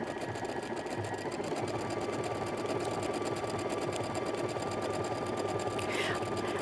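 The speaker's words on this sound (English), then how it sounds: "We're going to go over to the machine and hit a decorative stitch" A sewing machine hums steadily and close by as it sews a decorative blanket stitch around applique pieces on a kid's bedroll, with no pause throughout.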